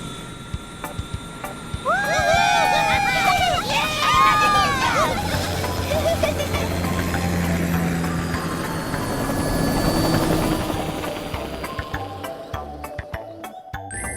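A cartoon aircraft takes off in a Shimajiro episode, giving a steady, rising engine drone; cartoon voices and bright chirping tones play over it near the start.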